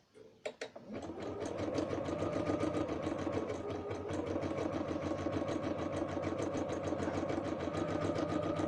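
A sewing machine stitches a batting join for a bed runner, starting with a few separate clicks and then running in a fast, steady mechanical chatter, close and fairly quiet.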